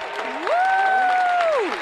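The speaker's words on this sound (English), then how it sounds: "Cheering this morning." A packed house of neighbors cheers and applauds, steady clapping filling the room while a single whooping voice rises, holds and falls above the crowd.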